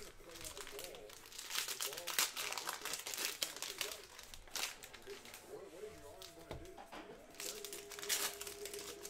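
Cellophane wrapping on a 2019-20 Hoops Premium Stock basketball card pack being torn open by hand, with close, irregular crinkling and crackling bursts that run through the whole stretch.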